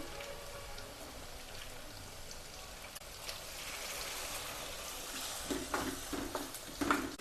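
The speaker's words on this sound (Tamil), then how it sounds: "எண்ணெயில் நல்லா வதக்கிக்கலாம்" Tomatoes sizzle gently as they sauté in oil in a pan for a South Indian tomato chutney. The crackle is soft and continuous and grows a little busier toward the end, with no talking.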